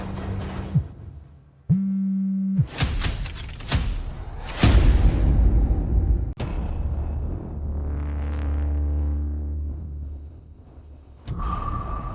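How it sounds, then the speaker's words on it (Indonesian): A telephone rings in short electronic tones, loud and close, amid thumps, rumbles and other sound effects in a dramatic scene. "Ada telepon untukmu."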